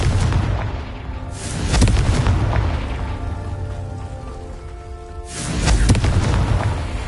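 Confringo spell explosions in the Hogwarts Legacy video game erupt as two loud, deep booms a few seconds apart, each rolling into a long rumbling, crackling tail with no speech.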